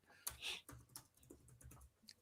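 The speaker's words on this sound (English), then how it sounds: "Typing." Quick bursts of typing on a computer keyboard give a few sharp clacks followed by lighter, irregular key taps, faint and close, with no speech.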